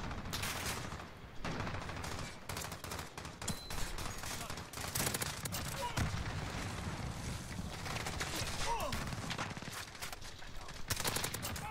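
AK-47 gunfire in Modern Warfare, heard as rapid bursts of automatic shots rattling through the whole stretch over a busy battle backdrop, loud and close with brief gaps between volleys.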